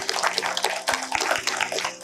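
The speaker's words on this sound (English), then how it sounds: "let's give him a round of applause" A short, loud burst of audience applause at an exhibition event honoring a guest, with many hands clapping close by and a few sharper claps standing out, with no talk.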